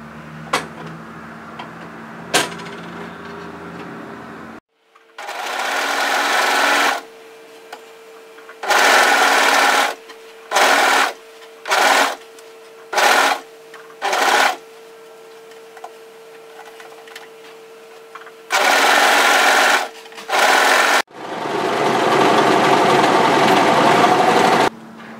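An overlocker sews a seam joining knit and woven fabric in a series of whirring bursts, some long and some short and clipped, separated by silent pauses, with a brief low hum and clicking before the first run.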